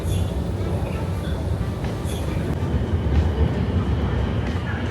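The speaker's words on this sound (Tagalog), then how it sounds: "sasakay ulit tayo ng train" A metro train at a Shanghai subway station, with a steady, loud rumble of rolling carriages and station noise running throughout, and faint voices under it.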